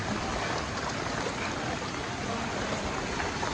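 Floodwater rushes out of a water pump discharge during a typhoon, a steady loud broadband gush of churning water that continues without a break.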